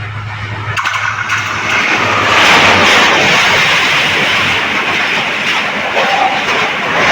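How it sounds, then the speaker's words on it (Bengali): A train rumbles across a railway bridge patched with bamboo in place of iron, a loud, close, continuous roar with rattling clatter of wheels and cars running steadily throughout. "এইমাত্র কেবল একটা ট্রেন গেল, আর ট্রেন যেই ব্রিজটার উপর দিয়ে গেল"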